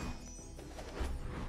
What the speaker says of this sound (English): Especially when it Woo! Entails smashing llamas.